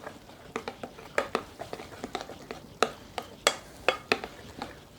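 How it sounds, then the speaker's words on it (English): A spoon stirs a Mexican casserole mix with cornbread in a bowl, making a steady run of sharp clicks and soft scrapes at an uneven, close-up rhythm. "we'll stir this all into my mix"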